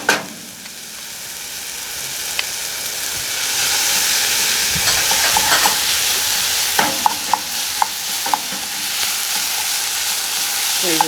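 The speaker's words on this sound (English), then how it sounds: "We're going to let that tomato paste cook for a little bit longer" Tomato paste fries in a pan, giving a loud, steady sizzle that hisses throughout, with a few sharp clicks and scrapes of stirring.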